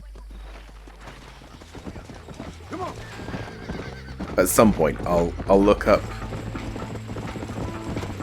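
Horse clip-clopping at a steady pace in the video game Red Dead Redemption, with a sharp neigh near the middle and rattling tack mixed in, while someone talks over it.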